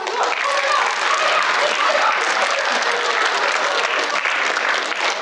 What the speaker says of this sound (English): this person will accept the applause as the audience goes crazy